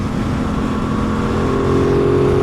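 Motorcycle engine accelerating while riding in highway traffic, a loud, steady droning roar that swells slightly in pitch and volume toward the end, heard up close with wind rushing past.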